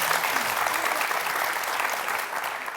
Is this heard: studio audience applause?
yes